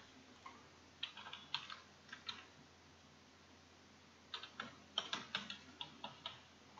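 Computer keyboard typing of a username and password into an admin login, quiet clusters of close key clicks in two bursts with a pause between.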